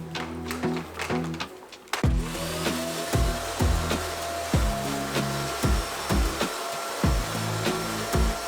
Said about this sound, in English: let's go ahead and grab my vacuum now and we can start on the floors